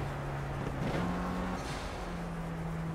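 Simulated KTM X-Bow race car in Project CARS, a steady engine drone running throughout with a slight pitch shift as it slows into braking, loud and close with no talk.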